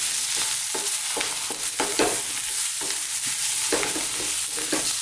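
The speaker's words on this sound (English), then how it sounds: "Now, let's just throw these around, stirring all the time now." Spice powders are stirred in a hot frying pan for a beef curry, a steady sizzle punctuated by repeated scraping strokes of a utensil at a quick, uneven rhythm, close and alone.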